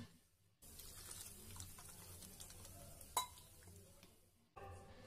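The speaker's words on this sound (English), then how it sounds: "Add water step by step and make batter." Water trickles and splashes as it is poured into a wheat flour batter in a home kitchen, a soft liquid pour broken by a sharp clink of a utensil partway through.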